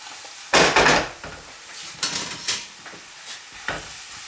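Apples with sugar stewing in a pan for an apple pie, stirred with a utensil in a few distinct scraping, clattering passes over a faint, soft cooking hiss.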